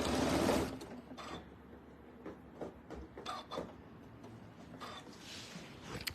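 Sewing machine stitching through cork fabric in a steady mechanical whir with soft clicks and brief pauses where the presser foot lifts, fairly quiet and close, with no talk.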